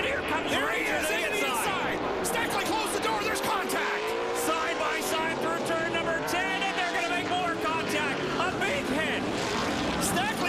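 Stock race cars roaring through a turn at Canadian Tire Motorsport Park during the NCATS Clarington 200, a dense continuous engine drone with shifting pitches, heard under steady race commentary.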